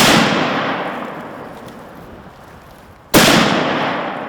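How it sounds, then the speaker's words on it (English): A 7mm rifle loaded with Swift 150 grain Scirocco bullets fires twice outdoors. Each loud, sharp crack is followed by a long rolling echo that fades over several seconds, with about three seconds between the shots. "I wanted to check my rifle and make sure it was still on the money"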